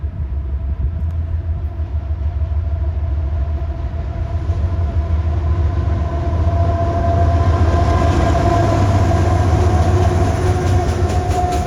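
A CSX freight train rolls past steadily, its deep engine rumble and rhythmic wheel clatter building louder over about twelve seconds, with a sustained tonal whine rising above the noise.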